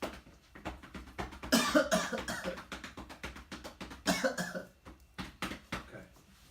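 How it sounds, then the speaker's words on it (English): A patient coughs repeatedly on cue to clear secretions, a series of short harsh coughs in two main bursts followed by smaller ones, close and fairly quiet. "cough so that we can try to get up some of those secretions"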